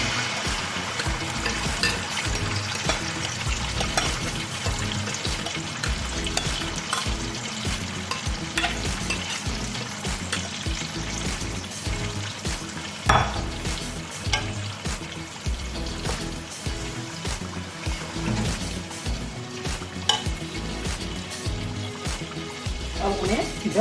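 Marinated mutton sizzles and fries in hot vegetable oil in a karahi, a continuous crackling hiss with occasional stirring scrapes and clinks, while someone talks over the cooking throughout.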